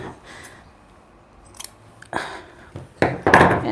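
Scissors snipping through apron fabric, a few quiet crisp cuts followed by a quicker run of louder close snips at the end.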